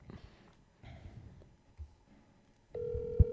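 A telephone call rings out, a steady electronic tone starting near the end after a few faint rustles and breaths, with a sharp click as it sounds.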